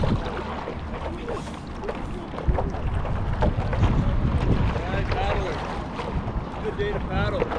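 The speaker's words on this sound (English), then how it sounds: "A little windy though." Wind buffets the microphone in rough, rumbling gusts, with water sloshing around a stand-up paddleboard and faint voices mixed in, on the water off Hawaii's North Shore near Waimea Bay.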